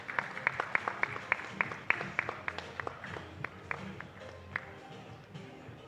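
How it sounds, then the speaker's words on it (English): Summit audience gives a round of applause, indoors and fairly faint: a modest scatter of distinct handclaps in an uneven rhythm that thins out over several seconds. "big round of applause again"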